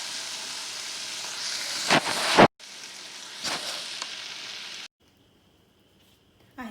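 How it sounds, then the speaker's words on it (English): Fajitas sizzle in a hot pan with a steady, close hiss and a few sharper crackling bursts, then the sound cuts off into near silence with a faint high tone. "I'm just going to let that simmer for a few minutes."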